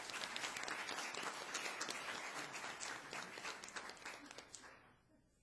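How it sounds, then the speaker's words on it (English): A round of applause in a county legislature chamber, brisk steady clapping from a modest crowd that thins and fades out at the end. "So please give them one last round of applause."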